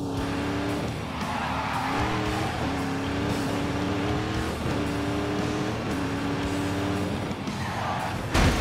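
A Dodge Hellcat-based car in a video game, its engine roaring through repeated rising revs and gear shifts while the tires squeal and skid, loud and continuous with no talk.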